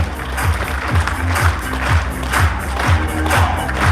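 Audience at a Christmas concert clapping in a fast, rhythmic, steady beat, a large crowd's synchronized applause with rumbling low thumps, loud and close throughout.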